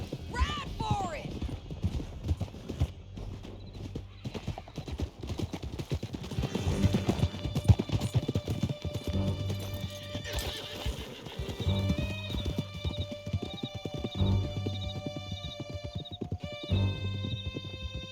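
Horses gallop in Red Dead Redemption 2 during a canyon chase, with a steady drumming of hooves and a couple of shrill whinnies. Game music and other effects play throughout.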